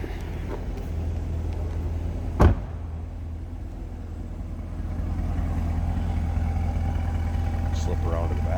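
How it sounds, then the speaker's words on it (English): A 2021 Chevrolet Corvette Convertible with a performance exhaust rumbles at idle close by, a steady low drone with one sharp knock or bark near the start, under a speaking voice. "Nice sounding car. Again, performance exhaust."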